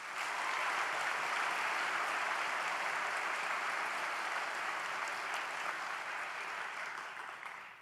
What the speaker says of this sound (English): let's give a huge round of applause for our parents and guardians that have helped us along the way